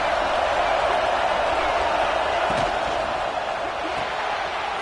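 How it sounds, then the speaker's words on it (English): Broad, steady roar of a football stadium crowd cheering throughout, loud and dense with no clear breaks, sounding like a large gathering before a play. "This crowd ready to make its presence known."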